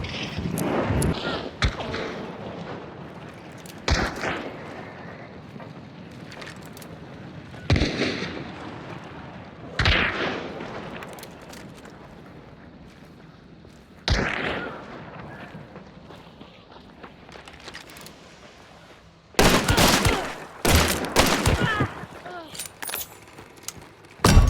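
Gunfire in Hunt: Showdown, fired through walls at a hunter: several loud, sharp broadband shots at irregular intervals, each trailing into a short decay, over a steady low game ambience.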